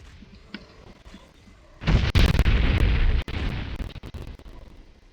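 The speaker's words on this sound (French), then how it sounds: "Arrêtez avec l'explosion nucléaire" An explosion in the video game Morrowind erupts suddenly after quiet ambience, a loud, dense roaring blast that rumbles on for several seconds before tapering slightly.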